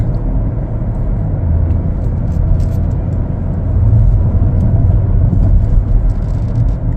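A 2024 Chevrolet Blazer 3LT drives and accelerates, heard from inside as a smooth steady low engine hum and road rumble that swells slightly midway, with no talking.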